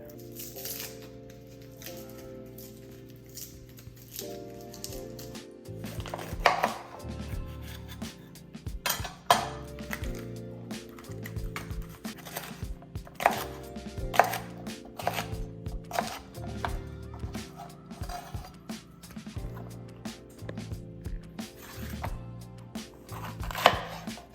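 A knife chops cooked-down ingredients on a cutting board in rapid, uneven bursts of close, crisp knocks, with quiet music underneath.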